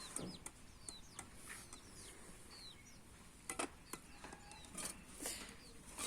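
Chickens in a rural yard cluck softly and intermittently at a distance, mixed with scattered sharp clicks and knocks against a quiet background.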